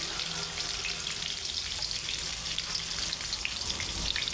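Turmeric, Kashmiri chilli powder and salt sautéing in a pan for hotel-style paneer lababdar, a quiet continuous crackling sizzle with faint stirring, steady and close, with no talking.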